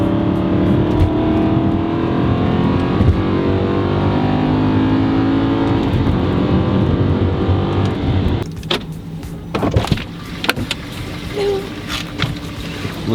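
An Aston Martin Vantage engine pulls loudly and continuously from inside the car while driving, a steady low roar for about eight seconds before dropping to quieter cabin noise with a few knocks.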